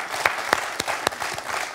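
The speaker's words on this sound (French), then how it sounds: "Ça, j'aimerais bien qu'on l'applaudisse." A studio audience on a French TV quiz show applauds in a brief burst of scattered, distinct claps at close range.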